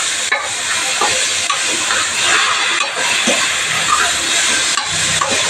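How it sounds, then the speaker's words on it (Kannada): Sprouted horse gram fries in oil in a pan, a loud, close, continuous sizzling hiss broken by occasional stirring scrapes, with no voices. "ಈಗ ಮೊಳಕೆ ಹುರುಳಿಕಾಳು ಒಂದು ಬಟ್ಲು, ಇದನ್ನು ಎಣ್ಣೆಲೆ ಚೆನ್ನಾಗಿ ಫ್ರೈ ಆಗಬೇಕು ಹಾಕ್ತಾಯಿದ್ದೀನಿ"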